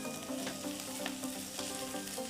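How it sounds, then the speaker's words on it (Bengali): Potatoes and pointed gourd fry steadily in a pan, a continuous close, even sizzle with soft scraping bursts from repeated stirring throughout. "আমি নাড়াচাড়া করতে করতে কিভাবে আলু দিয়ে পটলটা ভেজে নিলাম"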